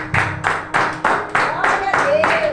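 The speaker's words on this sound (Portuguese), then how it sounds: "Uma salva de palmas ao Senhor." A church congregation clapping in a few loud, rhythmic bursts of hand claps, with a sung or sustained voice rising in the background near the end.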